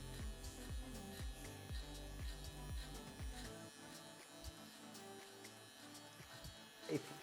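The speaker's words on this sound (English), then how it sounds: "Since we have the trimmer in our hands already, we'll test on the beard." An electric beard trimmer buzzes steadily against a beard, close and moderately quiet, with a soft mains-like hum and brief pauses as it moves.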